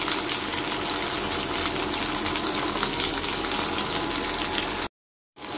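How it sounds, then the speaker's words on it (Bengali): Egg paturi wrapped in bottle gourd leaves, three at a time, frying in oil in a wok over low heat, a loud continuous close sizzle throughout that cuts off abruptly near the end. "আমি কড়াইতে তিনটে করে ভেজে নিচ্ছি।"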